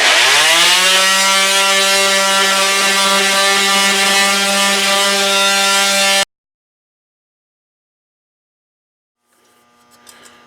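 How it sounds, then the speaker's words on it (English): Small electric pad sander with 220 grit sandpaper roughing up a Harley-Davidson motorcycle shield, a loud steady buzzing drone that cuts off abruptly partway through, leaving silence before faint handling noise returns. "I just have some 220 grit on my little pad sander here and just going at it."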